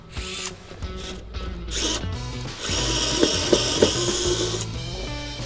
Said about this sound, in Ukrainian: Викрутка акумуляторна CSD36X.